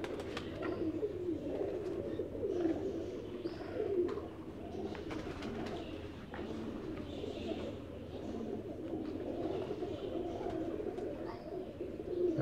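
Pigeons coo steadily at a high-flying pigeon loft, a continuous layered murmur of soft low calls from many birds close by, with occasional wing flutters and no talking.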